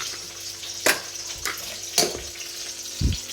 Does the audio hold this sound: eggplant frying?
yes